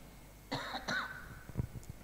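Two or three short coughs from a masked man during a church sermon, fairly close and moderate, with no speech over them.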